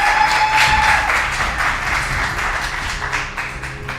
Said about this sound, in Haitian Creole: S'il vous plaît, faites bruit, bat bravo pour chef Ketina avec chef Dich